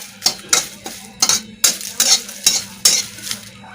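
Curry leaves roasting and being stirred in a pan until dark, a run of loud, rhythmic scraping strokes with a light sizzle beneath, close up with no talking.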